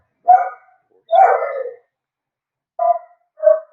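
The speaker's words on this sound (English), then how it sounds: "dog barking somebody's at the door." A dog barks at someone at the door: four loud, close barks, two quick ones, then a pause before two more, with silence between.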